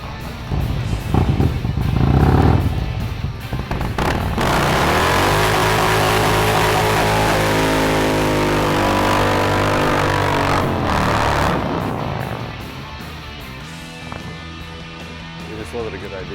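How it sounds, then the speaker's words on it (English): A Harley motorcycle with an M8 motor does a burnout, close and loud: revs climb into a long sustained roar that holds several seconds, then falls away, with voices around it. "I got to do a burnout on his bike."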